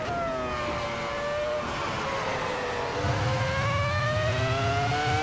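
A Ferrari F2004 Formula 1 car in the Assetto Corsa racing game at the Nürburgring GP circuit, its high-pitched engine wailing continuously as the revs sweep down and climb again, loud and steady with no talk.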